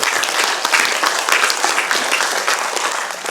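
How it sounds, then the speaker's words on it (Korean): Audience applause fills a hall at a climate crisis and carbon neutrality policy forum, dense and steady clapping from many hands that lasts throughout at close range. "우리 격려의 박수를 시작하면서"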